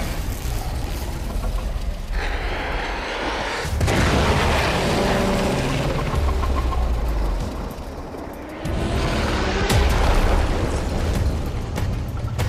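A large explosion rumbles through a sci-fi action video game, a loud sustained roar of blast and debris that swells, dips briefly and surges again, with no speech over it.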